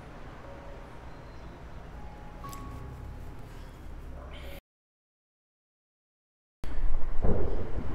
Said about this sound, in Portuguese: E bom, com essa tempestade do caramba,